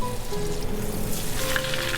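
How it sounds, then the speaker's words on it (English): Fish for Baja-style fish tacos crackles and sizzles in hot oil, about three pieces at a time, a steady close hiss with some low background rumble. "Just take the excess out and start frying, baby."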